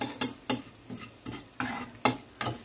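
Fenugreek, radhuni and ginger paste spit and sizzle in hot tempering oil as a spoon scrapes the pan in a steady rhythm of about eight sharp strokes, close and clear with no talking.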